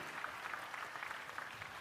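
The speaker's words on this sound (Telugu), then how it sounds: "గట్టిగా చప్పట్లు కొట్టి అభినందించండి" Audience applause at an officials' review meeting, a steady dense patter of clapping from a crowd that holds evenly for about two seconds with no talk over it.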